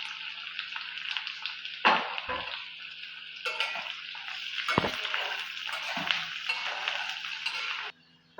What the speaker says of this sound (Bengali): কুচনো পেঁয়াজগুলি দিয়ে দিলাম, বাদামি করে ভেজে নিব